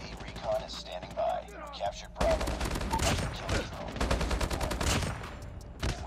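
Rapid automatic rifle fire, including an HBRa3, in Call of Duty Mobile. Dense volleys of shots crowd the second half, over quieter game sounds, with a voice talking throughout.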